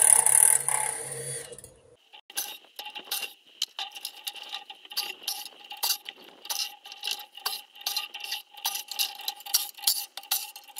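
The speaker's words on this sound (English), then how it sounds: "We're gonna undo these top four bolts." A cordless drill with a 5/16 bit backs out the top bolts on a high bay light fixture, giving a long run of quick, rattling ticks and short whirring bursts after a brief louder mechanical buzz at the start.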